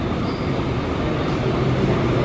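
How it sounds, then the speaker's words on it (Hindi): A metro train pulls into a station in Seoul, its loud, steady rumbling roar filling the space with broadband noise and a faint high whine above it, with no voices. "और फिर वो मेट्रो आ गई मेरी"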